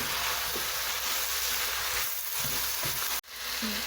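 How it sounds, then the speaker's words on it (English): Chicken pieces and brinjals sizzle and fry steadily in a pan as they are stirred, with a sharp scrape or knock of the utensil against the pan near the end. "Give it a stir."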